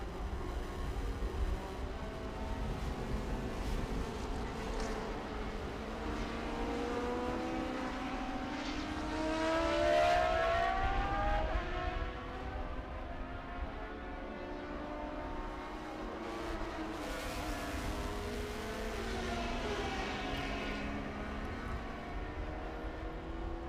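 Van Diemen formula race cars, including an RF97 and an RF94, racing at Road America, heard as layered engine howls rising and falling as they pass, mostly distant with one nearer car swelling midway.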